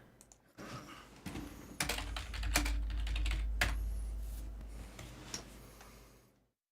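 Typing on a computer keyboard, a run of quick, uneven key clicks with a few sharper taps, close and fairly quiet over a low background hum, with no voices.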